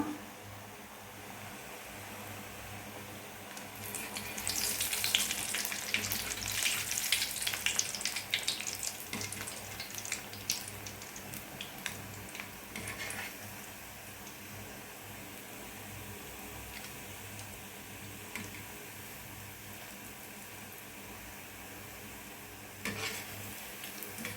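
Raw banana kola balls fry in hot oil with a bright, close sizzling hiss that swells early, then settles into a softer steady bubbling.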